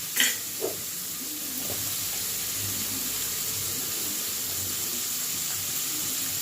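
Ridge gourd pieces dropped into a pan with prawns sizzle and fry steadily at a moderate level, with a couple of brief stirring clinks near the start and no talking.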